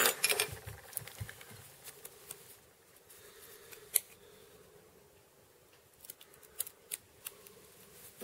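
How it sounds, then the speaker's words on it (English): Scissors cut a small triangle of fly-tying material for an early black stonefly nymph, giving quiet, close snips in scattered clusters at the start and near the end, with soft handling rustles between them. "And I'm going to cut another triangle."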